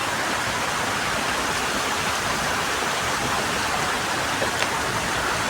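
Heavy rain pouring in Patan, a dense, even roar of downpour, unbroken and loud for the whole stretch, with no voices over it.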